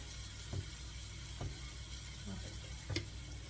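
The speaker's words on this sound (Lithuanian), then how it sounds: "O, tai gražiai kepa." Onions seasoned with salt and pepper fry in a pan, giving a steady close hiss, with four evenly spaced soft scrapes of stirring breaking through it, and no talking.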